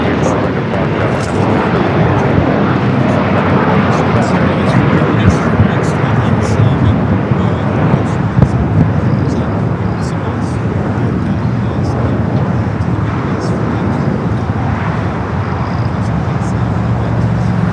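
An airliner rolls for takeoff from runway 25 right at LAX, a loud, steady roar of jet engines that holds throughout without letting up.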